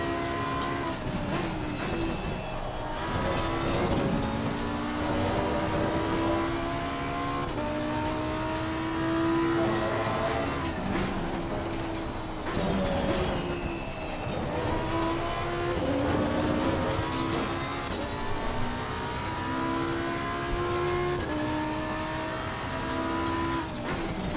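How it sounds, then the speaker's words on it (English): Racing car engines in Assetto Corsa Competizione roar and rev continuously, pitch rising and falling through gear shifts, loud and close with a slightly synthetic, game-like tone. "Car sounds are fine."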